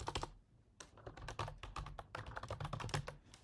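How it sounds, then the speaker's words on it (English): Rapid keystrokes on a computer keyboard while entering Java code, a dense run of close clicks with one short pause near the start, heard alone. "if you notice that when I was typing there, I accidentally put a space in"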